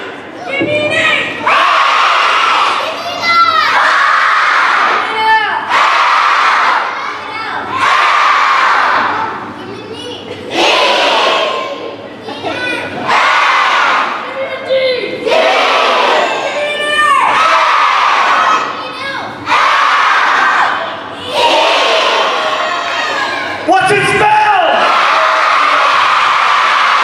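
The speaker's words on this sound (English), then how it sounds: "The Hillendale cheer. Give me an A!" A school assembly crowd of children shouts the Hillendale cheer in loud, rhythmic call-and-response bursts, with cheering and whoops between the chants that fill a big room from start to finish.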